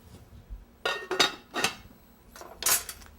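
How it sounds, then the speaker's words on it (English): A metal cover is set onto a cooking pot of Portuguese boiled dinner, giving several sharp, close clinks and rattles in quick succession, separated by brief quiet pauses. "We're going to put the pan, the cover on it."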